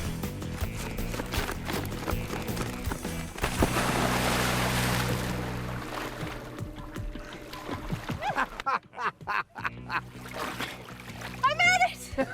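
Person sprinting across a water surface in a running-on-water test, feet slapping and splashing in a loud, rapid churn that builds and then breaks into scattered splashes, with outdoor bustle and voices around it.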